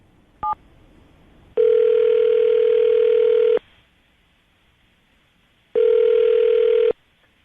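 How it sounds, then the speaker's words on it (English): A telephone line gives a short dialing blip, then two long ring tones separated by a pause, each steady, loud and evenly pitched against a quiet background. "I'm going to dial the phone number right now"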